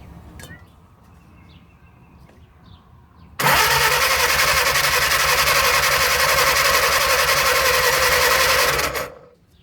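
A 1937 Willys flathead engine that sat for over 25 years cranks loudly and continuously for about six seconds, a steady rapid churning starter grind that stops abruptly without catching.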